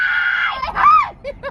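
People scream in a loud, close, high-pitched burst that breaks into shorter wavering cries.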